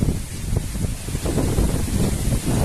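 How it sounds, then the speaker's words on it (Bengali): Strong wind buffeting the microphone in heavy low gusts, a constant loud rumble with no voices. "তবে বাতাসের তীব্রতা অনেক বেশি।"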